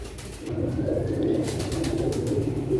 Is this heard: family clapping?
no